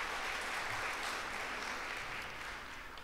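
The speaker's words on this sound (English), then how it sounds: "Clap." Steady crowd applause at a wellness festival's closing conversation, a broad even wash of many hands clapping at once that holds throughout and fades slightly toward the end.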